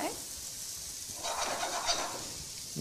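Fish, potatoes and cabbage sizzle in a pan once a little more oil goes in: a faint steady hiss that grows brighter and louder halfway through, with light stirring noise.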